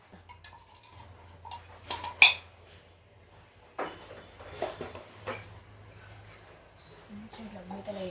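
Metal lids set onto cooking pots in a home kitchen where dal rasam simmers beside an amaranth-leaf fry, giving a few sharp clinks and clatters amid softer handling noises, with a voice talking at the end.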